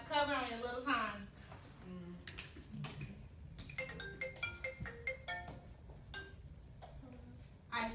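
A mobile phone ringtone plays a melodic sequence of bright electronic notes in a lecture hall during a class, at moderate volume over a low room hum.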